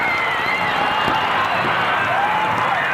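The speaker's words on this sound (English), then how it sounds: "The crowd's going wild." A packed arena crowd at a 1982 MISL indoor soccer game, Baltimore Blast at New York Arrows, roars steadily right after a tying goal, a loud continuous wash of cheering with whoops and whistles rising above it.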